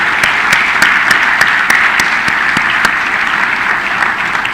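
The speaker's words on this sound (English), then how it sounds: "may I request you all to please join me in giving a round of applause to each one of them" Audience applause for gallantry award winners at the Military Literature Festival at Sukhna Lake in Chandigarh: loud, sustained crowd clapping with a few sharp individual claps standing out, steady throughout.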